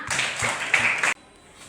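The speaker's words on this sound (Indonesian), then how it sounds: "Berikan tepuk tangan." Elementary classroom students clapping for a classmate, a short burst of brisk group clapping for about a second that cuts off abruptly into near silence.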